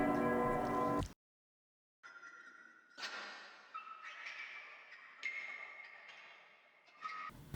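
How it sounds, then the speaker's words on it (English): Eerie bell ambience in an electronic music track: a dense burst, a moment of silence, then scattered bright metallic chimes and pings ringing out with airy tails, fairly quiet. "bells and creepy stuff"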